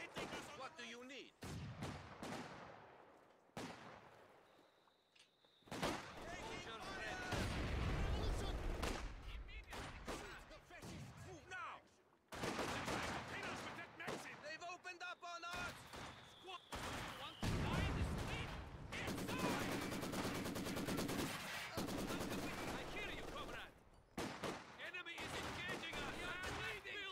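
Machine guns fire in a large multiplayer battle in Company of Heroes 2 at Lienne Forest, long rattling bursts and overlapping gunfire filling a busy battlefield, broken by brief lulls, with unit voices speaking throughout.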